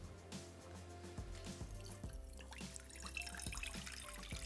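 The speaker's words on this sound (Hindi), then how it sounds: "1 कप के बराबर पानी" Water pours steadily into a cooking pot in a home kitchen, one cup's worth, with a continuous trickling splash and faint clinks underneath.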